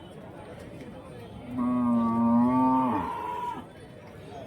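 A single cow lets out a long, loud moo nearby, lasting about two seconds, with quiet ambient noise before and after.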